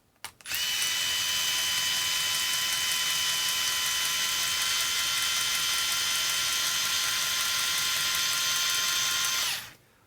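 A Bosch GO 3.0 3.6V cordless screwdriver runs tightening a 7/8 socket, spinning up sharply into a steady, high whirring motor whine for about nine seconds before abruptly stopping, close and loud.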